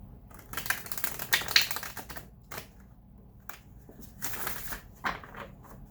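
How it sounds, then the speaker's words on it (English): A deck of tarot cards riffled and shuffled up close, bursts of crisp rapid flutter and clicking separated by short pauses, with no voices. "one more shuffle and I'll do the cards"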